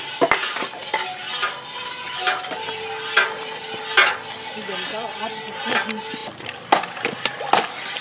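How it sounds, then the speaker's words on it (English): Sahau mixture being stirred in a cooking pot, steady scraping and swirling strokes of a utensil against the pan with soft sizzling, close and fairly loud, with occasional clinks. "You need to be stirring it just like when you're making custard"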